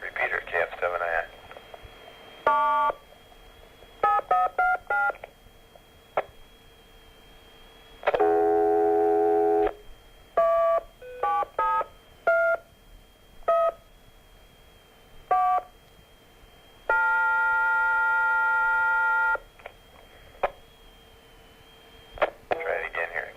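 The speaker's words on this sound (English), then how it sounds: "Got to dial the right number." Telephone keypad DTMF tones dial a ham radio repeater in bursts of quick beeps, with longer steady tones and pauses between, the dialing repeated as if retried, heard clearly and alone.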